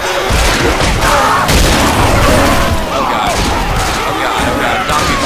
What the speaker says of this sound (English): Alright, kill that pipe bomb.